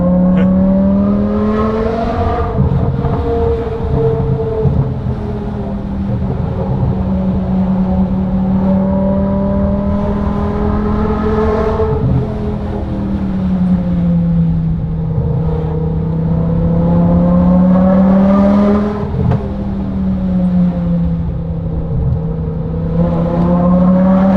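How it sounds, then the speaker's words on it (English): Modified BMW M5 Touring with a V10 engine, heard from inside on the highway, drones steadily and loudly, with several downshift blips where the revs rise and fall in smooth sweeps. "downshift is super nice. We'll get a good downshift."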